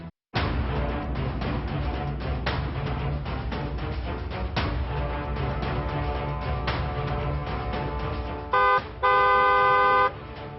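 A car horn sounds near the end in two short blasts, loud and steady-toned, following several seconds of busy, continuous background sound.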